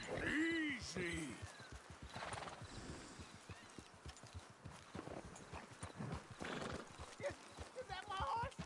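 In the video game Red Dead Redemption 2, a horse whinnies loudly near the start, then hooves clip-clop steadily while people talk over them, with another neigh later.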